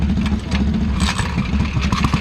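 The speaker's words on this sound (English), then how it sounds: "Even just starting one of these bikes can be a real chore." A 1936 four-stroke motorcycle engine being started, a loud, close, rough low chugging and clattering that runs throughout with bursts of rising mechanical noise, no talking.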